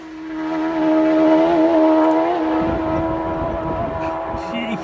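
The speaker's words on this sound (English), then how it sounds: "watching it at the edge of the campsite as the warm-up laps came past" TT race motorcycles on warm-up laps at the Isle of Man TT, passing a campsite edge at speed; a loud, high engine whine sweeps past, falling in pitch as the bike recedes, then another approaches.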